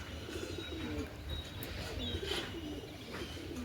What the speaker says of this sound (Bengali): এই যে আমাদের পায়রা